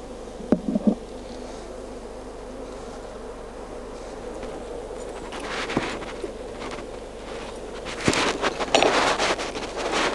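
Bees buzz steadily in a continuous drone around a hive during a transfer from a top bar nuc, with occasional clicks and rustling handling sounds nearby.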